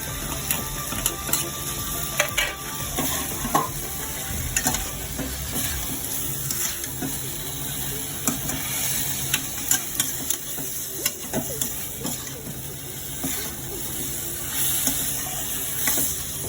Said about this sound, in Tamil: நல்லா வதக்கி நல்லா பூ மீறி வந்துருக்கு சிக்கனு